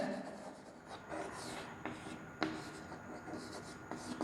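Pen or marker writing out a definite-integral math equation on a board during a lesson, a quiet scratchy scribbling with short strokes and taps, no speech over it.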